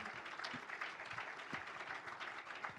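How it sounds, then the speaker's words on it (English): Applause from a crowd greeting fighters Chuck Liddell and Randy Couture at a fan Q&A event, steady even clapping heard at a moderate distance. "Ladies and gentlemen, big round of applause."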